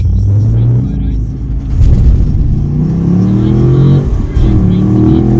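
At Springmount Raceway, a drag racing car's engine roars loud and close, with deep rumbling and revs that climb repeatedly as it accelerates.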